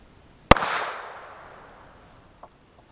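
A single sharp, loud gunshot from a .45 ACP Super pistol loaded with Bullseye powder, with a decaying outdoor echo afterward and a faint small click near the end.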